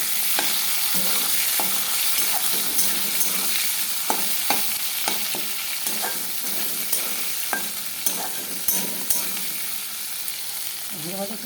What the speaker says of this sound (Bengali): এই যে আলু আর এটা সেদ্ধ করে রেখেছিলাম, যে এটা দিয়ে দেবো। এটাকে একটু ভাজা ভাজা করে নেবো।